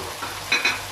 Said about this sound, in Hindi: अब मैं इसके अंदर फ्राई आलू डाल रही हूँ जो हम लोगों ने फ्राई करके रखे थे